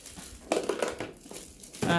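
Birthday gift wrapping is torn and crumpled open in several loud, crackling bursts with quieter rustling in between, close to the microphone.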